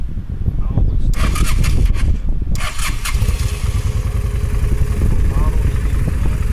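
Motorcycle engine starting up and running loudly and steadily nearby while a rider learning to ride gets instructions, with a voice talking over the engine noise.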